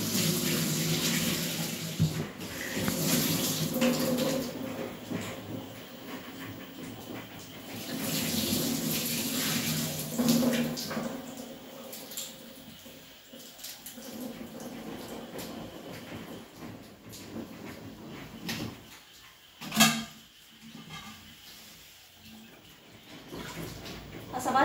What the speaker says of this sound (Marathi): असा भाजीपाला स्वच्छ धुवून ठेवला